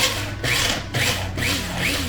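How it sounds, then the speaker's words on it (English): A small electric grinder pulsing walnuts into nut dust, loud whirring bursts in about four quick pulses with short dips between them, close and alone. "any kind of grinder would probably work. So I'm just going to give it a couple pulses right here."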